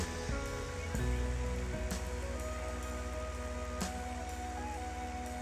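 Steady rain hisses in a farming simulator game running a seasons mod, a continuous wash of noise layered over droning tractor engines on a downhill field, with no one speaking.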